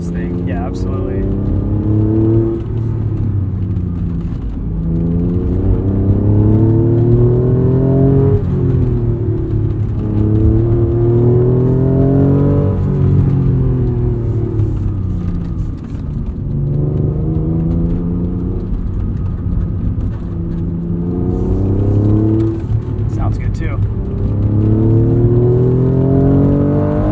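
A 1992 Acura NSX engine revving through canyon corners, heard from inside the car, rising and falling in repeated acceleration sweeps with a whirring, rumbling tone; voices talk over it at times.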